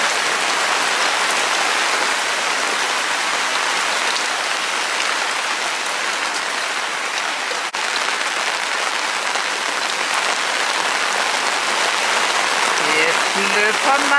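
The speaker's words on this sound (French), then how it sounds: "Et comme ça il pleut, hein?" Heavy rain falls steadily on a sailboat moored in the Caribbean during the rainy season, a loud, dense, unbroken patter that lasts the whole stretch with only one brief knock partway through.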